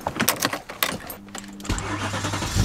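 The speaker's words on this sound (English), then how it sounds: "Give it a bit of a rev, see if we can see that blue smoke again." A Mercedes C63 Coupe engine fires up with a sharp burst after some clicks and key rattles, then settles into a steady low idle, close and loud, with no talk.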